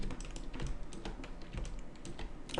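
Computer keyboard keys clacking in quick irregular bursts during 3ds Max modeling work, close and fairly quiet, with no talking over them.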